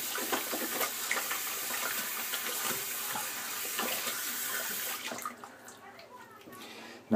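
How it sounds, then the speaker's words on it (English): Tap water runs steadily into a sink while hands are rinsed during a wet-shaving routine, a close hissing splash that cuts off near the end, leaving a quieter room. "Anyways, go and rinse my hands."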